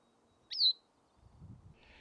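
A single bright, slurred Bicknell's thrush call rings out clearly on a mountaintop, followed by a short, lower rustle and faint chatter.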